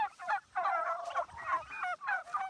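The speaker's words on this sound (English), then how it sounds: "there's another set of turkeys right over the knoll right down there" A large flock of turkeys on a family farm, hundreds of birds gobbling in loud overlapping bursts that rise and fall in waves, fairly close and continuous with no talk.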